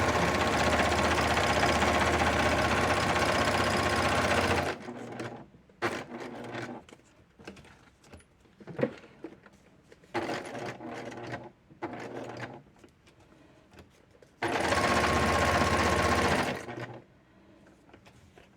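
Sewing machine stitching through the pages of a tag book binding, running in two loud sustained bursts near the start and end, with quieter handling clatter and brief stops in between.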